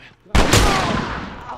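A single loud gunshot blast from The Last of Us video game cracks sharply after a brief quiet, then rings out in a long decaying echo.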